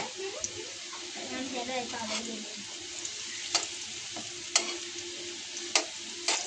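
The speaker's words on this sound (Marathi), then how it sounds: "अशा प्रकारे सगळ्या वड्या पलटी करून चांगल्या ब्राऊन कलर येईपर्यंत चांगल्या भाजायच्या. तेलात फ्राय करायच्या." Potato vadi frying in hot oil while pieces are flipped, a steady soft sizzle running throughout with occasional sharp clicks and taps of a utensil, fairly close and moderately loud.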